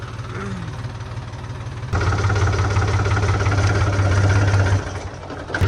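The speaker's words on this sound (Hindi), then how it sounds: "17 साल हो गए इस ट्रैक्टर को लेकर, इसका साउंड चेंज नहीं हुआ।" A Swaraj tractor engine, 17 years old, idles with a steady low chugging throb, growing louder and denser about two seconds in before easing slightly near the end.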